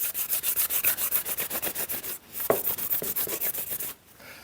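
Repeated rubbing strokes as a butt-stitched crocodile leather seam is pressed flat, a steady rhythmic scraping of about sixteen close passes with a brief pause midway, ending in quiet.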